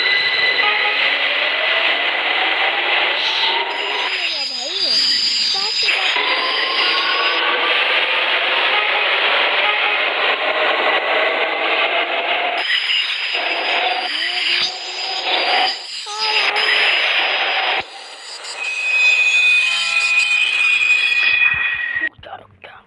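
A train rolls along in a train-driving video game, a steady rumbling run with a high squealing whine, the noise dipping and shifting near the end as it slows.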